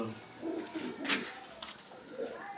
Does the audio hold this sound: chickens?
no